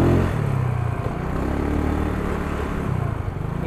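A Yamaha Mio 130cc motorcycle engine hums loudly and steadily on a test ride, a close, continuous mid-pitched drone with slight pulsing throughout.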